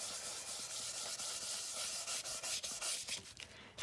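A brush sweeps back and forth over a sanded playing card, making a close, continuous rubbing hiss with soft rhythmic strokes throughout.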